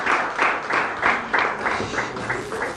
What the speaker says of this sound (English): give Lady Proskovia Nabanj another very big hand clap